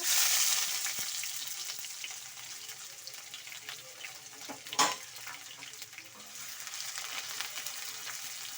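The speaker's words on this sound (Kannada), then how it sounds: "ಈರುಳ್ಳಿನ ಸ್ವಲ್ಪ ಫ್ರೈ ಮಾಡ್ಕೊಬೇಕು ಎಣ್ಣೆಯಲ್ಲೇ" Onions frying in oil for tomato gojju, a soft, continuous sizzle that swells briefly near the start, with a single stirring clatter around the middle.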